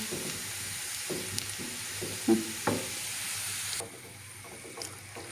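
Onions sautéing in a pan, a soft steady sizzle with a few light clinks and stirring knocks, fairly quiet, dropping lower toward the end with no talk.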